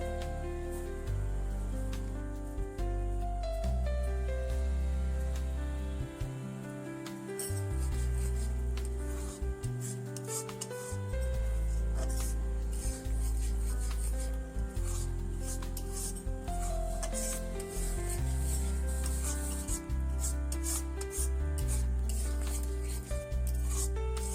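Sweetened milk is stirred in a pot, with a spoon steadily scraping and rubbing against the bottom and sides in a continuous rhythmic rasp that runs throughout at a close, moderate level.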